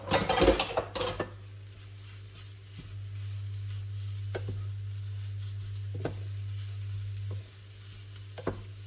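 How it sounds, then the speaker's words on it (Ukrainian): Grated carrot hits softened onions in a frying pan, giving a steady close sizzle with a few clinks and stirring knocks from utensils against the pan, no talk. "Коли цибулька трішки протомилась, додаємо морковку."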